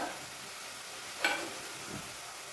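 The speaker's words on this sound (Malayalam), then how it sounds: "എപ്പോഴും നമ്മൾ ഇളക്കുമ്പോൾ ചട്ടി ഒതുക്കി വേണം ഇളക്കേണ്ടത്" A spoon stirs fish curry in a clay pot, giving one faint, brief scraping stroke against the pot over a quiet, low background simmer.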